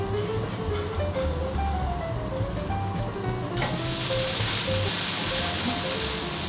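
Steady sizzling and crackling of roti jala batter frying in a very lightly greased pan, continuous and close, with a faint tonal hum underneath.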